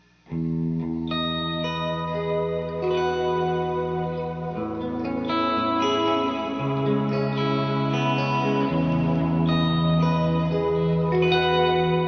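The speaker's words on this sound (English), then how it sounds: "Let's now get into the hall reverb and some of the sounds we can get out of it." An electric guitar through a Universal Audio Golden Reverberator pedal on its hall reverb setting plays sustained chords drenched in a spacious, lingering reverb, notes blooming and trailing into one another with no talking.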